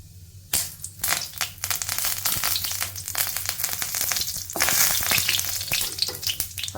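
Mustard seeds and curry leaves fry in hot oil for a low-potassium pachadi, giving a steady close sizzle with sharp crackles and pops scattered throughout, no talking.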